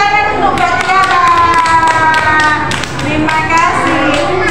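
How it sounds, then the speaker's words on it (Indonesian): Children clap together for a classmate after a picture-story presentation about sacrificial animals, a dense steady patter of small hands filling the room, with a voice and high tones running through it. "Tepuk tangan untuk Mbak Tiara."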